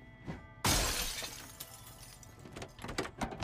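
Glass shatters in the Project Zomboid video game, one sharp loud crash with a bright burst, followed by scattered tinkling and small clatters of falling pieces.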